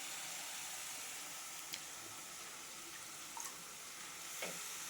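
Moong dal and cabbage cooking in a pan over a medium gas flame, with a soft continuous fry and hiss broken by a few faint clinks of a utensil, heard alone.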